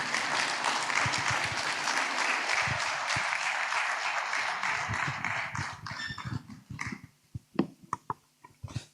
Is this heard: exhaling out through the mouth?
no